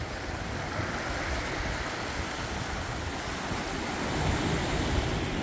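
Waves on a small, calm beach at Barra Velha, a steady broad wash of surf with wind buffeting the microphone, continuous and close, with no talking.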